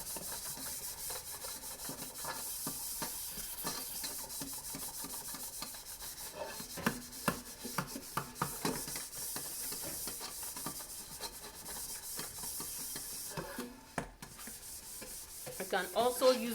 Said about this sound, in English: then you go in with that powder and give it a thorough scrub